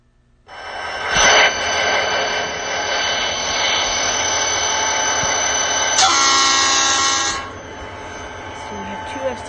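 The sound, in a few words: SD40 diesel locomotives in a video game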